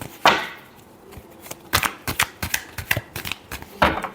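Tarot cards are shuffled in a run of quick crisp riffling snaps and slaps, irregular bursts close by with quiet gaps and no speech.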